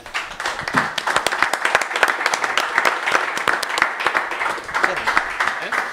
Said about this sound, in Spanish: Este once merece un aplauso.